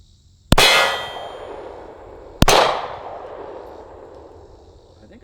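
A .40 caliber pistol is fired at a steel armor plate. Two sharp, loud shots come about two seconds apart, each trailing off in a ringing decay outdoors.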